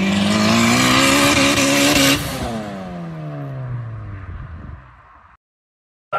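A turbocharged 600-plus horsepower ninth-generation Honda with a built K24 engine revs hard, then lets off with a sharp whoosh from a Turbosmart blow-off valve as the pitch sweeps down, followed by brief silence.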